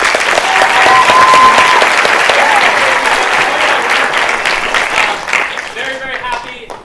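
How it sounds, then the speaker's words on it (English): A school audience gives a long, loud round of applause for fourth grade teachers at a lower school play, dense clapping that swells and then slowly tapers off. "Give them a big round of applause."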